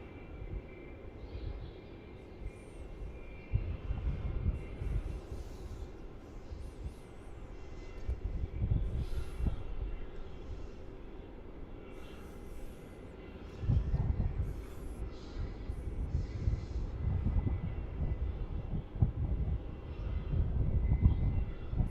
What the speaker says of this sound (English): Rolling down 16 is Qantas flight QF151 off to Auckland, 737-800.